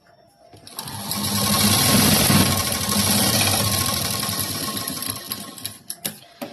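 Sewing machine stitching a blouse sleeve, a fast steady mechanical whirr that ramps up, runs continuously for several seconds, then slows into a few separate clacks at the end.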